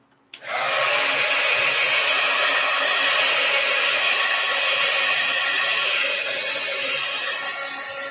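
A hair dryer blows steadily on an art journal page, a loud, continuous broadband whoosh that starts abruptly and holds for about eight seconds with no talking.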